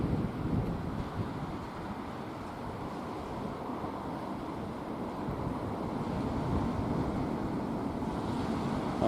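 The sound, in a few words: sea waves at the seaside with wind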